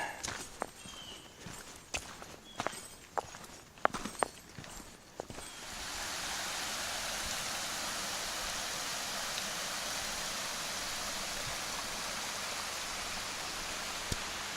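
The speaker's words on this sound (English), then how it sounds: "Little stream cascading down here. It's a nice sound." A small stream cascades down a backcountry hiking trail. A few footsteps crunch at first, then a steady, close rush of running water fills the rest of the scene.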